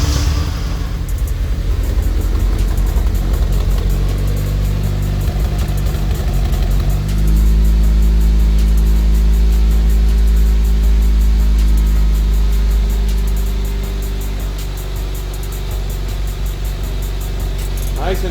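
A Honda CR-V turbo fitted with a custom-fabricated exhaust cranks and starts, settling into a steady low, rumbling idle that stays loud and close throughout, with brief voices in the background.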